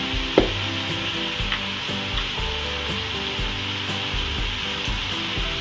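Samosa filling seasoned with red chili powder frying in a pan, a loud, continuous close sizzle with a few scraping stirs and knocks of a utensil, no voices.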